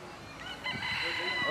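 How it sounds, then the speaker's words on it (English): A rooster crows among free-roaming chickens outdoors in Hawaii, one drawn-out crow rising over light background noise at moderate distance. "there are the chickens roaming free"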